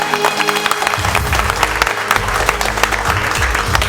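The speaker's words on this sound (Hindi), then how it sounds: "पूरे वतन सर के लिए तालियां।" Students clapping in a classroom, a lively burst of dense, uneven hand claps from a group, close and loud throughout with a few stronger individual claps standing out.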